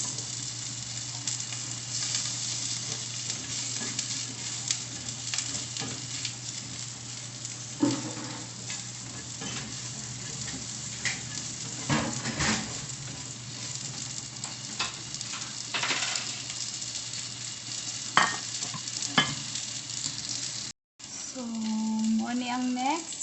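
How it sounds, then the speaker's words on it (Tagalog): Onion, garlic and carrots stir-fried in a pan, steady close sizzling with occasional scraping and clanking stirs, and a brief voice near the end. "Ato nang igisa ang ato ang sibuyas, ahos"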